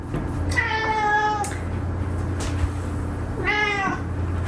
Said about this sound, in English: And my kitty come to say hi.